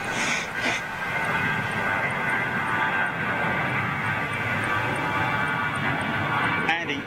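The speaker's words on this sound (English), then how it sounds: "ATR taxiing out" An ATR turboprop taxies out at Toulouse airport, its engines a steady, close, continuous drone with a faint whine running throughout, while voices talk over the noise.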